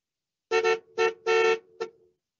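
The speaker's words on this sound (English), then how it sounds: "Dad, please don't honk." Car horn honked at a red traffic signal by a new car: four close, loud blasts, the third the longest and the last a short tap, with no talk over them.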